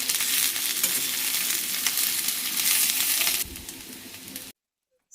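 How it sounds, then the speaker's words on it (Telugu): Bitter gourd pieces shallow fry in hot oil with a loud, continuous sizzle that drops in level near the end, then cuts to silence. "సో, మనం కాకరకాయ ముక్కల్ని గోల్డెన్ కలర్ వచ్చినంత వరకు వేయించుకోవాలి"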